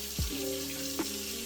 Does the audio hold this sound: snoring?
no